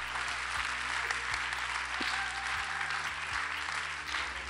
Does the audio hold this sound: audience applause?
yes